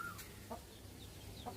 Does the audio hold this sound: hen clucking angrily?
yes